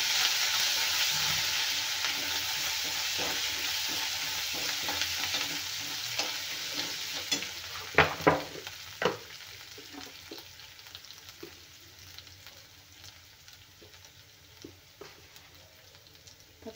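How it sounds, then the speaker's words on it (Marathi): Ginger-garlic paste sautéing in a hot pan for an aloo kachori filling: a steady sizzle with scraping stirs and a few louder spoon clanks near the middle, no talk. "अर्धा चमचा आलं आणि लसणाची पेस्ट, 1 चमच, छान परतून घेऊया"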